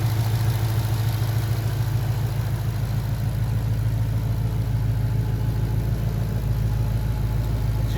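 The 5.2-liter supercharged V8 of a 2022 Ford Mustang Shelby GT500 Heritage Edition idles steadily, a low, even rumble with a faint whir on top, with no voices.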